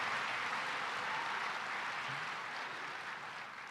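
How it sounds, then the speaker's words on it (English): Audience clapping at a political speech, a steady broad wash of applause that holds level and then begins to fade slightly toward the end, with no talk over it. "I appreciate you guys clapping"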